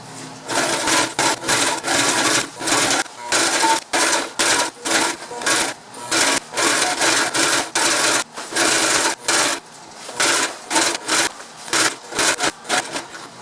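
An old sewing machine stitches canvas for a sailboat bimini top, running in loud, close bursts of rapid mechanical chatter separated by short pauses as the fabric is repositioned, with no voices over it.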